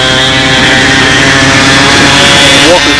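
Twin-engine model airplane at a fly-in demo day, its engines holding a loud, steady buzzing drone throughout with layered harmonic tones, a slight pitch shift near the end.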